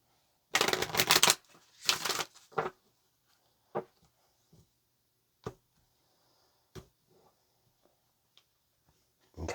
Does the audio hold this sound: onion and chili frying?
no